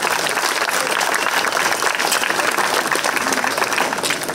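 An audience at a county fair talent show applauds the judges with a steady, dense wash of clapping that stays loud and even from start to finish.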